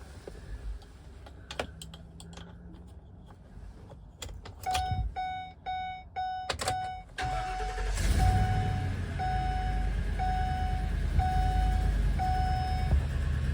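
Keys rattle and click, a chime beeps repeatedly, then the engine of a 2015 Ford E-350 Super Duty box truck cranks and catches, settling into a steady rumbling idle.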